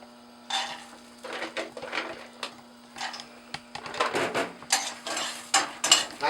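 Cashew nuts dropped into a pan of melted butter and stirred while roasting for a carrot dessert, with intermittent clattering scrapes and clinks of a utensil against the pan over a faint steady hum.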